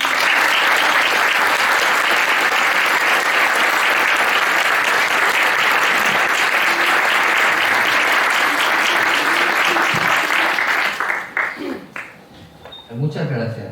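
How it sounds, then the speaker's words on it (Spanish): A loud, sustained burst of audience applause at a Spanish health-system talk for two doctors, thick clapping that runs for about eleven seconds before thinning out, followed by a speaker beginning to talk. "pediros un fuerte aplauso para Nicanor y Jesús"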